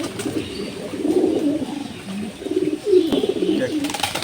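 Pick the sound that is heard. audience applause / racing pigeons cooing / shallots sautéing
racing pigeons cooing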